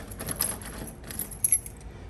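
Large bunch of keys jangling at a property door, a couple of quick metallic rattling bursts close by, with no talking.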